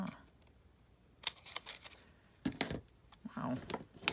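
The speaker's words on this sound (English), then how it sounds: "And then you gotta take your other scissors to, those are brand new and they're not doing that good of a cut job." Scissors snip through 12x12 scrapbook paper for junk journals: several crisp, close cuts in uneven bursts, with rustling paper between them and a quiet voice nearby.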